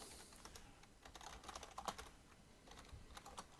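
Quick, uneven keystrokes on a computer keyboard tapping close by in steady bursts, with no talking.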